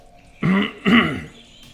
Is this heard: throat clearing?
yes